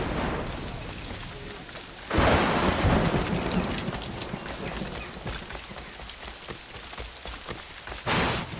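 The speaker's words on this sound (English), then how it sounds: "This storm's getting worse." Heavy rain falls through a thunderstorm in Assassin's Creed Rogue. Two loud thunder cracks burst over the steady downpour, one near the start and a shorter one near the end.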